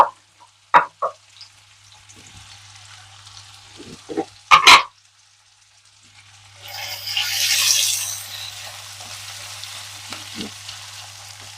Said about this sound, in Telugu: ఇప్పుడు ఇదే ఆయిల్లో ఒక మూడు ఉల్లిపాయలు చిన్న ముక్కలు కట్ చేసి వేసాను